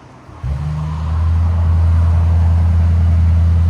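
A 2025 Mercedes GLE 63 S with a 4.0L bi-turbo V8 and straight-pipe exhaust fires up after a brief click, then settles into a loud, deep, steady idle rumble close by.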